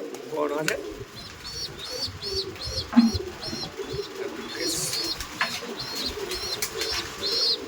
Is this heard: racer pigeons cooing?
yes